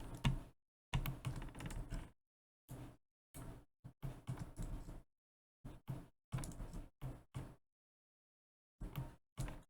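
Keys clatter on a computer keyboard in short clustered bursts separated by silent gaps, close and fairly quiet, during Maya 3D modeling work.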